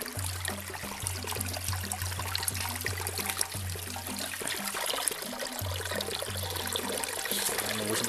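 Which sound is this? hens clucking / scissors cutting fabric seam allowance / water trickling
water trickling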